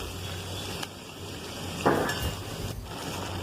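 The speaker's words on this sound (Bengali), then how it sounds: "তো এই সবজিগুলো দিয়ে আমি হালকা করে ভাজবো" Vegetables lightly frying in a pan, a steady soft sizzle with stirring scrapes and a brief louder hiss partway through, close and without talk.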